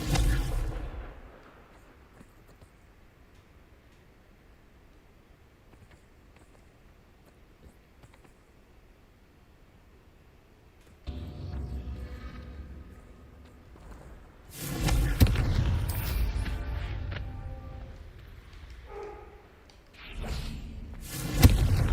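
Fiery Confringo spell blasts in Hogwarts Legacy come as heavy thuds and bursts, one near the start, then a louder cluster of booming impacts and whooshes after a quiet stretch, with a final punchy hit.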